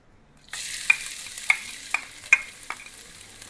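Grated carrots hit a hot pan for a from-scratch tomato sauce base and break into a bright, close sizzle, punctuated by four or five crisp clinks of a spoon stirring against the pan.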